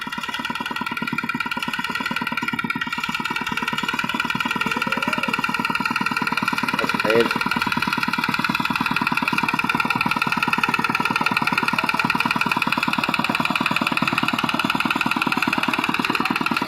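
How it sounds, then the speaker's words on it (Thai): A walking tractor's small engine runs steadily with a loud, throbbing drone, close by and unchanging for the whole stretch. "ครับบรรยากาศรถไถเดินตาม"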